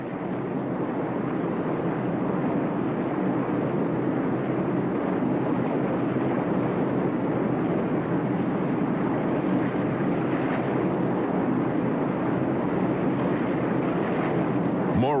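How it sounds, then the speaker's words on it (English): A Soviet Tu-95 Bear bomber with eight-blade counter-rotating propellers drones steadily and loudly overhead, a continuous roaring rumble that lasts the whole time. "By driving eight-blade counter-rotating propellers with their giant blades set at extremely coarse angles, this aircraft is able to combine the fuel economy of propeller drive"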